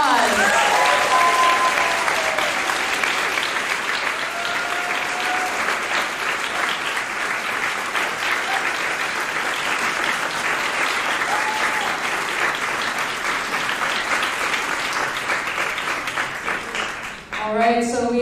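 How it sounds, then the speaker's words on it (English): Sustained audience applause at a live-streamed event, a dense, steady wash of clapping from a large crowd that fills the whole stretch and trails off near the end, with faint voices underneath. "If everyone could give another round of applause."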